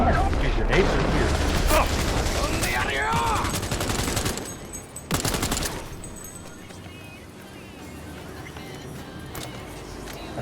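Bursts of gunfire fill a Cyberpunk 2077 fight, dense rattling volleys with sharp booming hits, fading to scattered shots and ambient noise as a voice talks underneath.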